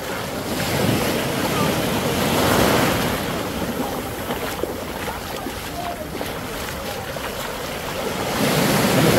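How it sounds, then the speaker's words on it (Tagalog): Strong wind buffets the microphone over continuous surf breaking on a Batangas beach at El Paye Lian, loud and close, with a faint voice or two underneath. "Ganda ng lakas ng hangin at alon"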